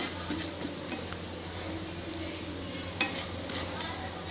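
Moong dal kachori filling with fennel seeds and salt roasting in a pan, a quiet, steady sizzle with soft scraping from stirring and a faint clink at one point, close by.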